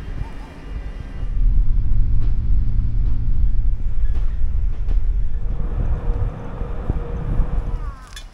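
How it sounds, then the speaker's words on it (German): A train rolls past nearby, a loud continuous rumble and clatter that swells and stays strong for several seconds before easing, with a brief squeal near the end. "Wir kriegen nur einen gebrauchten Zug."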